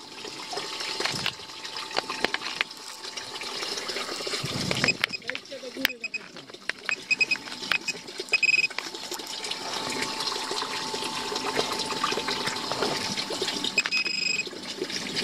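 Steady rushing water pours continuously from a pipe in a well, with a brief gurgling splash midway and faint voices in the background.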